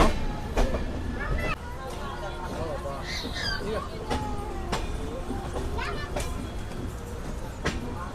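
The Bokaro Express passenger train runs near Dhanbad junction, a continuous rumble with clickety-clack rail knocks, squeals and sharp transient clatters, while voices talk faintly in the background.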